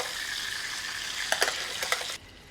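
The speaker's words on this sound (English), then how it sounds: "I'm just going to give it a quick baste with all that buttery goodness." Butter sizzles and spits loudly as a roasting poussin is basted, with a few brief clinks of a spoon before the frying noise cuts off abruptly near the end.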